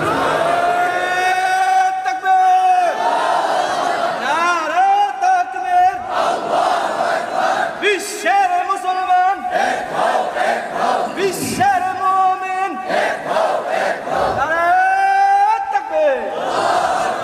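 A crowd at an Islamic religious sermon gathering chants the takbir response in loud, sustained massed voices, rising in several waves with short gaps between them, close and dominant.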